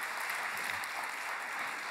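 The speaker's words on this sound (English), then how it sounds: "You can clap, absolutely," Soft, steady clapping from a crowd, fairly distant and even throughout, with no voices over it.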